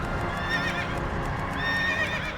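A horse whinny from a Whinny ability in World of Warcraft, used to frighten Northridge spiders: a loud, wavering neigh near the start and another toward the end, over a steady background bed of clopping and ambience.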